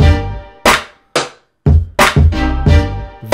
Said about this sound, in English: I had one kick that snaps,